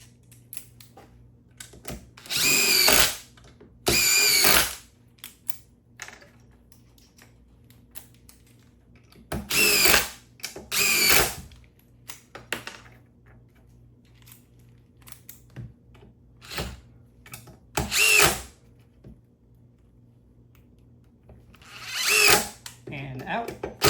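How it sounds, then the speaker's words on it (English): DeWalt 20-volt impact driver on a fully charged 5 amp-hour XR battery, firing in short loud bursts of a few seconds each, separated by pauses, with fainter clicks and handling noise between. "next up I got the DeWalt impact driver"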